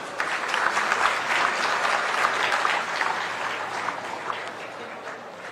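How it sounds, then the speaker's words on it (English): Audience applause at an Africa Day celebration follows the close of a speech, a dense, steady clatter of many hands sustained throughout at an even, fairly loud level with no talking over it. "Let's give our High Commissioner a better round of applause."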